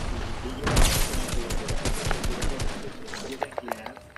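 Gunfire in a Fortnite trios match: a dense, loud burst of rapid shots in the first seconds, then scattered single shots fading out, with a player's voice talking over parts of it.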